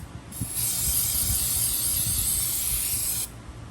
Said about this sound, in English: Shoot some brake cleaner in there, clean all that up, make sure there's no oil residue.